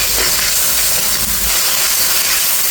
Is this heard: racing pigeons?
no